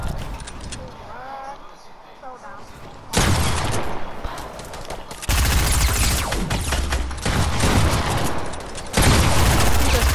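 Rapid gunfire in a 1v1 shooter video game, with loud sustained bursts of automatic fire that come in several stretches and keep cutting over one another.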